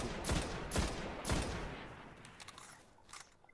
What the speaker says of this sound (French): ça sort un pistolet d'or enflammé qui one shot